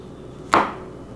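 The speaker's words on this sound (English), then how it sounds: "You need to cut on something that is slightly soft and makes a slight snicking sound when you cut." A single crisp knife snick as the blade cuts down onto a maple cutting board, one short bright tap that fades quickly, close and clear over quiet room tone with no talking.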